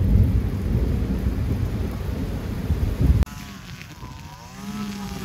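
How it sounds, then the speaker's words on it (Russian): Steady heavy warm summer rain hisses for a few seconds, then cuts suddenly to a quieter background with a faint humming tone. "Дождь очень теплый."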